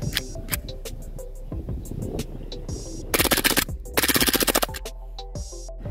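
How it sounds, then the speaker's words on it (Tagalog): Two rapid full-auto bursts from a Glock 26 pistol fired at a mango, sharp close cracks in quick succession, set among scattered clicks and handling noises. "Ngayon gamitan na natin siya ng full auto, 15 rounds ng full auto."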